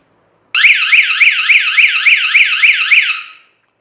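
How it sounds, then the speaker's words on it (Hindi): A homemade high-pitched fire alarm beeps in a fast, steady series of about a dozen sharp electronic pulses for roughly three seconds, loud and alone, then stops abruptly. "ये एक हाई बीप अलार्म है।"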